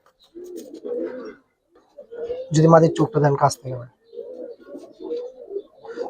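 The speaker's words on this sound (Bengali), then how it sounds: "খুব সুপার কবুতর।" Giribaz pigeons coo close by in a loft, with a burst of soft throaty cooing mixed in while someone talks.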